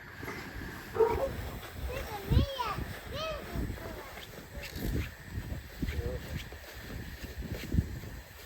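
Dogs bark repeatedly outdoors in winter, a series of irregular barks and yips of moderate loudness spread across several seconds, with people speaking in between.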